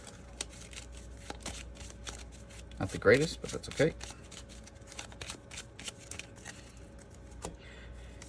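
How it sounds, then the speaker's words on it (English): Real playing cards from a Marvel card game shuffled back into a deck, a soft rapid riffle that stands out for about a second amid quieter handling, with someone talking over it. "I'll shuffle these 3 cards back in."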